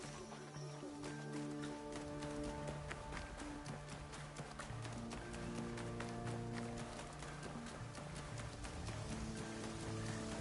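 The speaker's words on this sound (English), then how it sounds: "There's my horse." A horse gallops in Assassin's Creed Shadows with steady, rapid hoofbeats running continuously over a busy game soundscape of music and ambience, fairly quiet overall and without talk.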